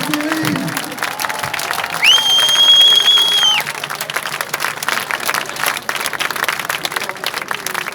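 A crowd at an outdoor demonstration of healthcare workers in Toulon breaks into sustained applause, a dense wash of clapping that holds steady throughout, with a brief electronic tone sounding over it early on.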